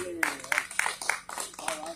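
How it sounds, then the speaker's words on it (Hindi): At a Hindu haldi ceremony, listeners clap for a visiting religious guru in a few spaced, sharp claps of about three per second over music and murmur. "मैं चाहता हूं कि महाराज जी के लिए एक बार आप सब जोरदार ताली बजा दीजिए।"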